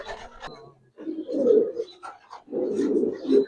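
Pigeons at a Giribaz and racer fancy pigeon farm coo in two sustained, low murmuring bouts after a short opening burst, close and moderately loud, with no talk over them.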